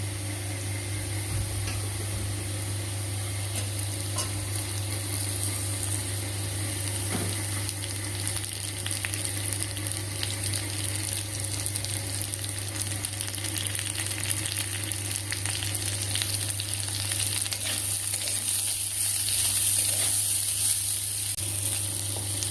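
Carrots and potatoes, with onion just added, fry in a pan with a steady hiss and crackle that holds unbroken and close, under a low steady hum, with no talking.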